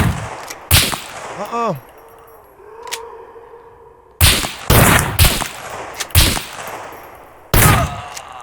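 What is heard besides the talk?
shotgun gunfire in a video game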